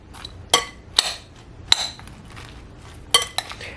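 Elbow macaroni pasta salad mixed in a bowl with a utensil, a few sharp clinks and scrapes against the dish at irregular intervals, close by, with no talking.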